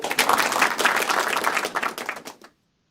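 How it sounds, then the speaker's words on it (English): An audience breaks into a short round of applause during a live pigeon-racing broadcast, brisk dense clapping that thins and stops abruptly after about two and a half seconds. "Let's give a round of applause."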